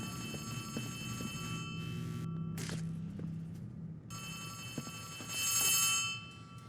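A telephone rings in the game Poppy Playtime Chapter 3, a faint, steady electronic ring with brief breaks over a low, murky ambient hum, with no talking.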